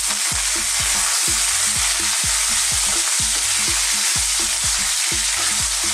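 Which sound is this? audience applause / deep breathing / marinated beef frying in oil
marinated beef frying in oil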